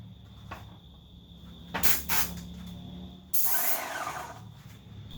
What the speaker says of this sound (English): I'll make sure the gun isn't clogged and spraying correctly by testing it out on the wall